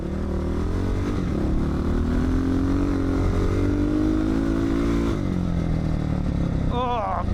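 Engine of the Avenger dirt bike roaring steadily through a lap, loud and close with shifting revs and a brief drop near the end, as a rider talks over it.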